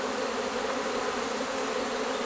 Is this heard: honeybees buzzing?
yes